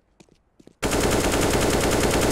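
A few soft clicks, then sudden sustained rapid automatic gunfire from a rifle in Counter-Strike: Global Offensive, loud, dense and continuous with no talk.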